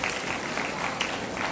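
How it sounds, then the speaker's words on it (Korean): Audience in a church hall applauding steadily, a soft, even patter of clapping that holds for a moment with no voices over it. "우리 한번 박수 한번 쳐드립시다."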